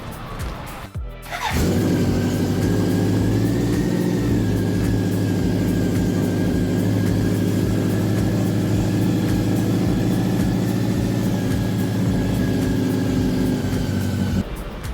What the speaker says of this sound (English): The bike was running when I purchased it.